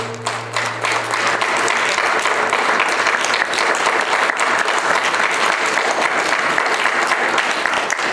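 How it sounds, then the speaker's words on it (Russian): Steady, dense audience applause fills a Chuvash book-fair event hall, loud and continuous throughout with no pauses. "Слабовато хлопаете, слабовато,"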